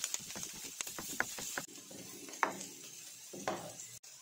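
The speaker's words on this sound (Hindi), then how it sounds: "ये बारीक बारीक कटिंग की हुई बंद गोभी इसको थोड़ा सा इस तरह फ्राई कर लेंगे" Shredded cabbage, capsicum and carrot stir-fried in a pan, with soft scraping and tossing strokes over a low sizzle, fairly quiet and close, with no talking.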